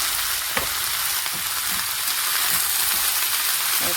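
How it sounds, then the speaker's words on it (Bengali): Ground turmeric, chili powder, coriander and cumin sizzle hard in hot oil, a loud continuous frying hiss broken by a few scraping stirs of the spoon, with no talk. "একটু ভালো করে নেড়ে নেব"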